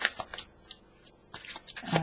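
Oracle and goddess tarot cards being shuffled by hand, with soft papery riffles and slaps arriving in short bursts, then a dense flurry of card shuffling near the end, close and fairly quiet.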